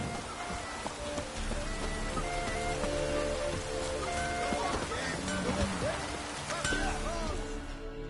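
Steady rain pours in a video game, a dense constant hiss with light scattered drips and faint clinks throughout.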